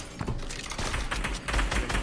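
Gunfire from a shooter video game: a rapid cluster of sharp, punchy shots and impacts packed close together, loud and continuous over a couple of seconds with no voices.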